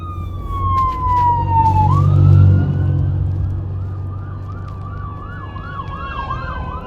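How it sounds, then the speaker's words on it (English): An ambulance siren sounds loud and close, sweeping down in a long wail, then settles into a rapid rising-and-falling yelp as the vehicle passes. "Salakia, let the ambulance pass."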